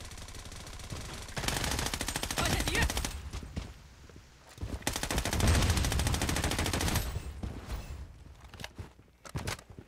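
Bursts of rapid automatic gunfire from the game Blood Strike, loud and sustained with short pauses, ending in scattered single shots.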